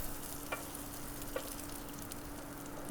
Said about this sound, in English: Time to flip the bacon, close the lid, and keep on grilling.